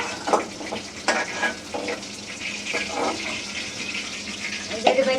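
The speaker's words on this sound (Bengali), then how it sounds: "কই মাছ ভাজতে সময় লাগে না, তাড়াতাড়ি হয়ে যায়" Koi fish fry in hot oil with a constant crackling sizzle, broken by louder bursts as the pieces are stirred or turned, while someone talks nearby.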